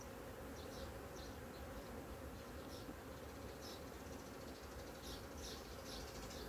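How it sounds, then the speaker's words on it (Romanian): Steady, dense buzzing of many agitated honeybees at a hive, a constant swarm drone with occasional higher whines as individual bees pass near. "Albina este destul de supărată"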